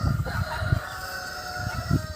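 A hen clucks in a village yard, giving a few short, low bursts spaced about a second apart, fairly close against quiet surroundings.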